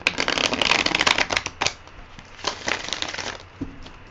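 Tarot cards are riffle shuffled up close, a dense fluttering burst of card edges followed by softer snaps and taps as the deck is squared.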